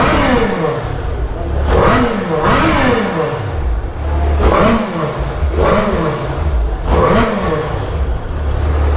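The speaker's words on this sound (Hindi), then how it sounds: "मैं इसका साउंड सुना देता हूँ। ये देखो है स्टॉक एग्जॉस्ट" A Ducati Panigale V4S superbike on its stock exhaust revs hard several times, each loud close blip rising and falling over a steady idle rumble.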